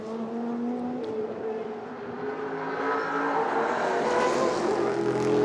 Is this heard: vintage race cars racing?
yes